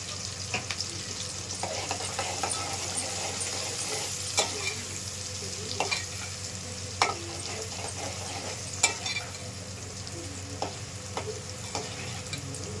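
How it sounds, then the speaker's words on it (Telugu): Sliced onions sauté with a spoonful of turmeric in a pan, a steady close sizzle running throughout, with a spoon or spatula scraping and clicking against the pan at irregular moments. "ఉల్లిపాయలు ఇలా మగ్గితే సరిపోద్ది."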